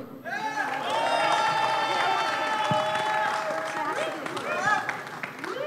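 Crowd at a live Nike Air Max Day panel in Dubai Mall cheers and claps loudly for a clapping challenge finalist, a sustained roar with whoops and shouting throughout.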